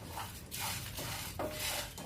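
Whole spices dry-roasting in a heavy kadai for pepper chicken masala powder, a soft rustle and scrape of stirring with faint clinks of utensil against the pan, close and continuous.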